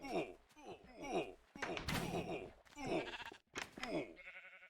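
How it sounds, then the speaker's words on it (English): Minecraft Infdev sheep bleat in short repeated wavering cries, several in quick succession close by, mixed with game thuds and a brief mechanical clatter at the end. "I guess I have sheep in my base now."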